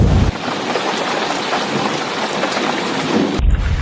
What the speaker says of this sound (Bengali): এবং সাথে সাথে বৃষ্টি নেমে দেয়।